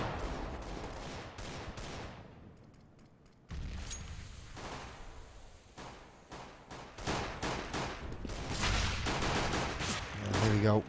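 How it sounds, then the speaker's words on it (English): Rapid volleys of Glock pistol fire in a Counter-Strike match, sharp cracking shots in clustered bursts, pausing briefly before resuming louder, mixed with game ambience and faint commentary. "Glock fire going down towards the pit"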